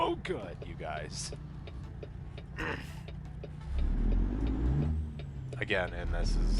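A Detroit 60 series truck engine with a straight pipe in American Truck Simulator drones low and steady, swelling louder toward the end beneath someone talking over it.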